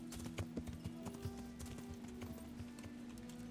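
Horse hooves clip-clop at a walking pace in a steady series of soft, close knocks over a constant low hum, with no voices.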